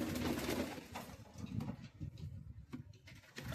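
Pigeons cooing in a loft with several birds, a steady, close murmur of low throaty coos with some rustling, no talk.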